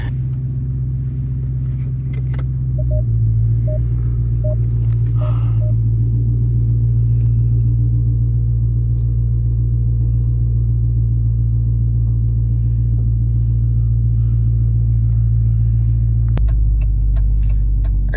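A Dodge Charger Hellcat on a cold morning gives a steady, loud, deep engine rumble while driving, holding a constant low drone throughout with a brief shift in tone near the end.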